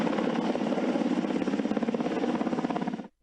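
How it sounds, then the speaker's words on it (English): A waterbombing helicopter, one that later crashed in a northern Australian state, thunders close by with a steady rapid rotor chop that fills the clip before cutting out abruptly near the end. "the waterbombing helicopter crashed in the northern state"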